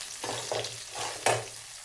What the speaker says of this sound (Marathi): आता आपल्याला कांदा टाकायचा आहे कांदा चांगला भाजून घ्यायचा आपल्याला